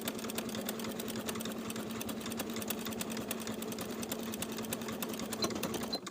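A sewing machine stitches the pocket lining of a denim skirt in a fast, even rhythmic whir, quiet and close, running alone without pause.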